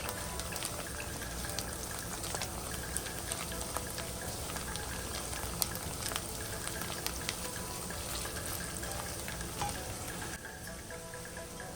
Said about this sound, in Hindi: प्याज हम ब्राउन कर रहे हैं, हल्के से ब्राउन होंगे